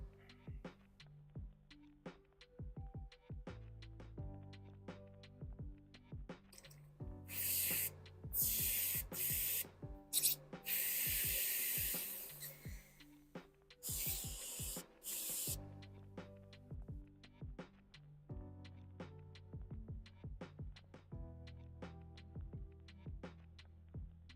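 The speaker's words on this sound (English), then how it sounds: "Put some airbrush cleaner through here." An airbrush sprays airbrush cleaner through in several hissing bursts, loud and close, separated by quieter clicks and handling noises.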